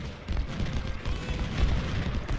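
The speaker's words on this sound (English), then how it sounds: "I saw the cannons just went off." Civil War cannons firing in Ultimate General: Civil War at the Battle of Gaines Mill, a dense rumbling barrage of low booms rolling continuously without pause.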